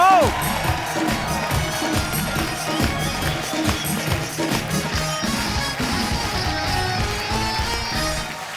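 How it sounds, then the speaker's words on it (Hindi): A live studio audience at a TV comedy show claps and cheers to welcome a guest, a dense, lively roar of applause with a voice over the crowd. "सुनील पाजी के लिए जोरदार तालियां"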